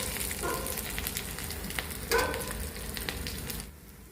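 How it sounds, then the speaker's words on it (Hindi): Food frying in a home kitchen pan, a steady broadband sizzle running throughout, with a brief clatter or stir near the middle before the sizzle drops off at the end. "अभी ये फ्राई कर रही हूँ अपने लिए और तन्मय के लिए"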